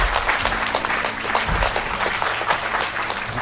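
An audience applauds as a guest is welcomed onto the stage at a Pakistan Television Quetta Centre anniversary event, with dense, steady clapping filling the hall throughout.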